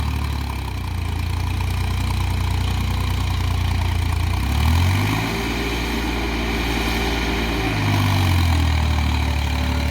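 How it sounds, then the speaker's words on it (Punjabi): A tractor engine runs in a flooded paddy field, a loud steady low drone that dips and rises in pitch midway as it labours under load, with no voices. "ਪੂਰਾ ਜ਼ੋਰ ਲਾ ਕੇ ਟਰੈਕਟਰ ਚੱਲਦਾ ਹੈ"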